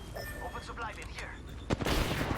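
Gunfire in the Apex Legends battle royale game, a short burst of loud shots near the end under a continuous game soundscape with some talk.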